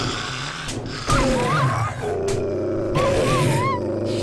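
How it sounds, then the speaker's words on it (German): A dog snarls and howls in the survival video game 7 Days to Die, with wavering cries and sharp hits over a busy game soundscape. "Muss man den Hund mal eben beseitigen hier."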